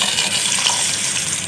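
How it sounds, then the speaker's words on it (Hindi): Fenugreek seeds, cloves and nigella seeds sizzle in hot oil while tempering for a fish salan, a loud, steady close-up hiss with no pause. "इन सब का भगार लगाना है।"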